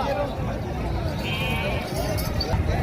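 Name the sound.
goats bleating at a livestock market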